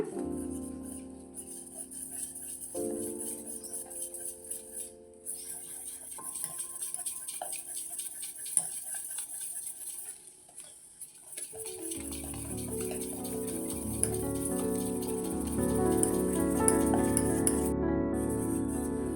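Rava dosa batter is stirred in a bowl with a utensil, giving soft repeated scraping and clinking strokes, close and fairly quiet, with no talk.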